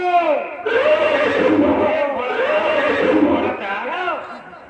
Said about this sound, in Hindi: बियाबान हमारा घोड़ा तैयार करो और तुम हमारे साथ चलो।